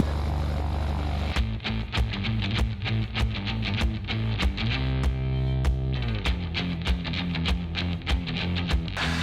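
A vintage Cessna Skylane propeller plane takes off from a private backyard runway, its engine drone loud and steady in the cabin, with rhythmic clicks and a shifting pitch as power builds.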